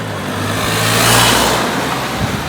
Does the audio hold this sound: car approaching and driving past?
yes